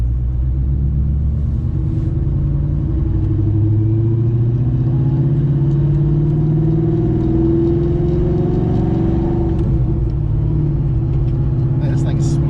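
An 800+ horsepower Viper Blue Fox Body Mustang rumbles steadily while driving, a loud low engine drone with gentle rises and falls in pitch, heard from inside the car alongside occasional talk.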